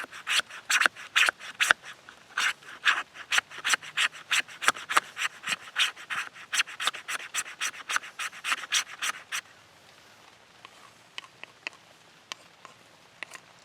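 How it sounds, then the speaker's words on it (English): Fatwood being shaved into wood shavings with a blade, a fast, regular series of close scraping strokes that continue for about nine seconds before thinning to a few scattered scrapes. "the fatwood definitely makes shavings easier"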